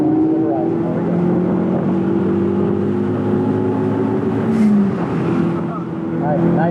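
Hyundai Veloster N engine under throttle on a racetrack, a sustained droning engine note with shifting pitch, heard from inside the car while a person talks over it.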